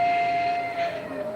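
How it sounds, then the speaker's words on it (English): Model trains running on the outer loop of a layout give a steady close rumble under a sustained tonal whine from the motors, with no voices. "get the outer loop running with a couple of trains here"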